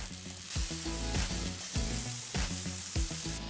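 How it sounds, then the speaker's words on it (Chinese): Cherry tomatoes frying in olive oil in a hot pan, rolled slowly until their skins burst: loud, steady close sizzling with regular stirring bursts. "热锅冷油，把樱桃番茄放入锅中，慢慢滚动，直到番茄表皮开始爆裂"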